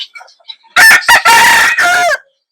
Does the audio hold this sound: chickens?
yes